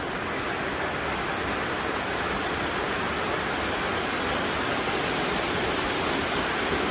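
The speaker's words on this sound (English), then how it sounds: "Got down to the bottom of the waterfall, and it's pretty good." A waterfall in the Otways, heard from its base, gives off a loud, steady, dense rush of falling water that fills the whole clip with no voices.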